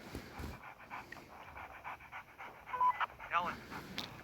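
A dog pants in quick, rhythmic breaths inside a zombie video game, close and moderately loud, with a few brief whimpers and game sounds mixed in.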